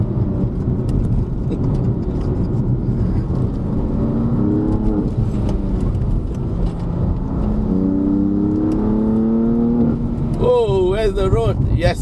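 BMW M4 accelerating hard through the gears on a mountain road, heard from inside: the engine note climbs in rising sweeps toward 5,000 RPM with a gear change, with a voice talking over it.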